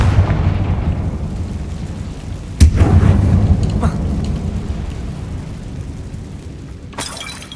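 A blasting-curse explosion in Hogwarts Legacy: a sharp shattering crack followed by a rumbling, debris-filled roar that slowly decays, with a second crashing burst near the end, loud and close over continuous game ambience.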